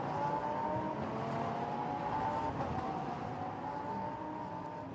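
Lamborghini Super Trofeo race cars pour out of a chicane at the Barcelona circuit under a safety car, a steady loud engine drone with tonal whine sweeping slightly downward as several cars pass in close succession.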